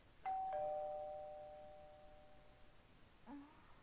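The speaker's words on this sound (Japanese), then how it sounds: "私は家のインターホンが鳴る音で目が覚めました。" A doorbell intercom chime rings inside a horror video game house, a two-tone ding-dong with a long fading tail, followed by a softer short knock-like sound near the end; no talking.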